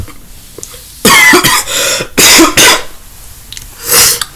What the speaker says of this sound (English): I just had a bit of a cough, that's all.